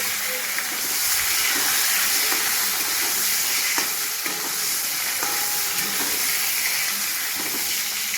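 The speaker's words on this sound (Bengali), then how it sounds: "প্রথমে আমি বেগুনটাকে একটু হালকা করে ভেজে তুলে নিচ্ছি।" Eggplant pieces frying lightly in hot oil give a constant loud close sizzle and hiss, with occasional stirring clinks from the pan.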